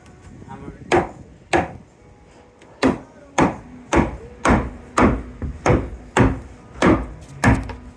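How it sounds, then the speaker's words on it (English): Hammer blows strike plywood in an attic, about a dozen loud sharp knocks in an uneven rhythm, some coming in quick pairs, close to the listener with a faint low hum between strikes. "Let me first hammer it."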